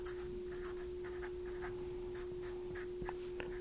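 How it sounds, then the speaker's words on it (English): A pen scratches out a physics equation on paper in short, close strokes with brief pauses between them, quiet and steady, with a faint hum behind it. "So let's just write down the equation."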